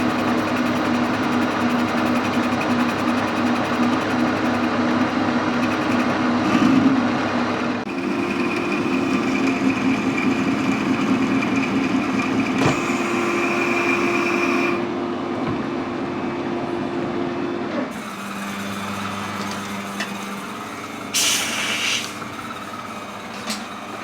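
A lathe cutting an internal screw thread in a blind hole, a steady high-pitched motor whine with a faint scraping rasp from the tool, changing pitch as the machine switches speed and direction.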